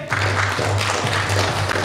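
A theatre audience applauds the cast of Feydeau's farce Le système Ribadier, a dense, steady wash of clapping that holds loud through the whole stretch, with a low steady hum beneath it.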